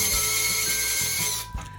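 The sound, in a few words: undoing screws holding a kitchen fluorescent light fixture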